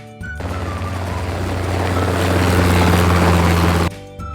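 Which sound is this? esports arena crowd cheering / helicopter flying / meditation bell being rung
helicopter flying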